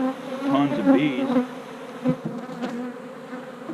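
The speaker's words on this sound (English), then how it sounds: "Tons of bees." A swarm of honey bees buzzes at an open hive during a comb honey harvest, a dense close hum with individual bees droning loudly past, with no talk.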